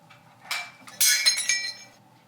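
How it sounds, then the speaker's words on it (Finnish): Drinking glass breaking while washing dishes in a home kitchen: a sharp clink, then a louder shattering crash with tinkling shards settling, fairly quiet overall and with no talking. "Voi ei, mulla meni lasirikki."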